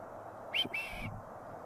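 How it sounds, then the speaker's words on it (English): Two short, faint whistled notes in quick succession from a person, the second slightly longer, over quiet outdoor background in the woods at night. "My whistling's pretty bad"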